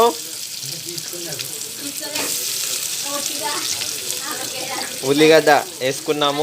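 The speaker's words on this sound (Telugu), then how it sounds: "ఉల్లిగడ్డ వేగించుకోవాలి. బ్రౌన్ కలర్ వచ్చేంత వారికి వేగించుకోవాలి." Onions fry in a pan with a continuous loud sizzle, joined by scraping stirs and a voice speaking over it toward the end.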